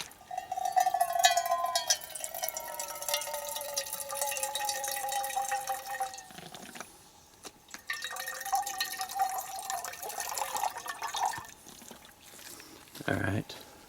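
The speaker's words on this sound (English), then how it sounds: "Rinse the cup out just to show you that it is clean." Filtered water from a survival canteen pours and splashes into a cup for a rinse, a steady ringing fill broken by brief pauses, close and moderately loud.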